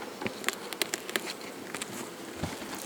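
Honeybees buzz around an open beehive in summer, with several close wingbeat passes swelling and fading over a soft, steady hum, faint and without talk.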